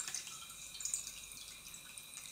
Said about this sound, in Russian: мотор качает воду в стакан.